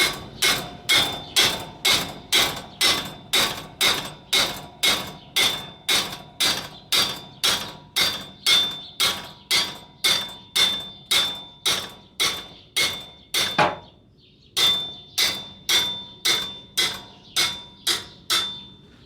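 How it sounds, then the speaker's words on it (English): Steady, rhythmic metal hammer blows on a car's front wheel bearing ring out close up, about two per second, with one brief pause partway through before the striking resumes. "I will hold it and then hammer it over here."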